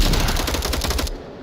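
Gunfire in the VR shooter Onward, a rapid burst of close, loud shots in quick succession lasting about a second before cutting off.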